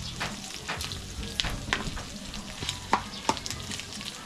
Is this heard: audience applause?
no